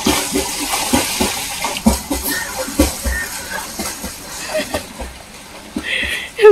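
Water sloshes and splashes around a person bathing in flood water in Chapra, with continuous watery churning and occasional heavier splashes, partly under people talking nearby.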